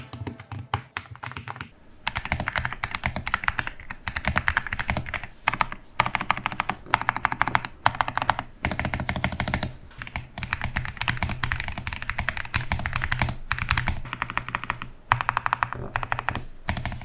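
Fingers type steadily on a lubricated mechanical keyboard, the keystrokes landing in fast clustered bursts with brief pauses between them, close and clear without any talking.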